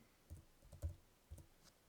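Computer keyboard typing with a Tab key press while filling student data fields, a few soft, sparse clicks spaced across two seconds, quiet and close, with no talk.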